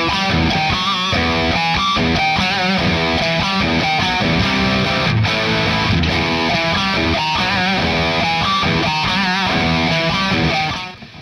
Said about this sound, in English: Let's try some more distortion.